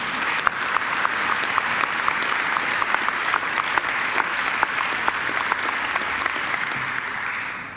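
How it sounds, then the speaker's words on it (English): A graduation ceremony crowd applauds warmly, a broad continuous wash of clapping from a large hall audience with occasional sharper individual claps standing out, tapering slightly at the end. "I think she deserves another great round of applause."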